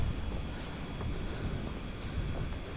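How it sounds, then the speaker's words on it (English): Strong wind buffets the microphone near the peak of Mount Eliza on Lord Howe Island, a loud, constant low roar with slight gusty swells and no voices. "It was pretty windy too."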